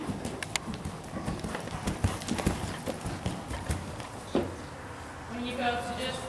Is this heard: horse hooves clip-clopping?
yes